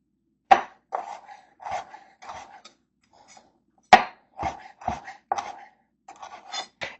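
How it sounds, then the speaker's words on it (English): Dried figs chopped with a knife on a board, about a dozen crisp separate cuts in an uneven rhythm with short pauses, close and clear with no other sound. "I need to chop some fig to mix in."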